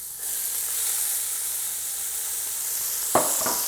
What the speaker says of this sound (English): we're gonna put a little bit of butter in, not much, and we're gonna saute until they're nice and tender